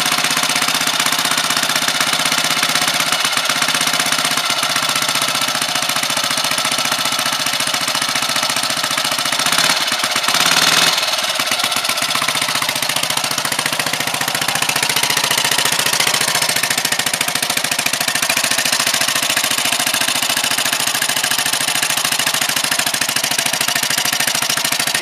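A 1949 Motobecane motorcycle engine runs steadily and close, a continuous loud rumbling drone with a busy rattling texture throughout, briefly rising around the middle.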